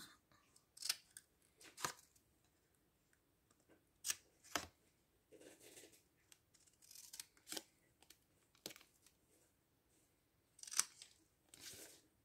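Scissors snip through small paper squares from both sides in a series of short, crisp cuts, some in quick pairs, spaced across the stretch with quiet gaps between them, close and fairly faint.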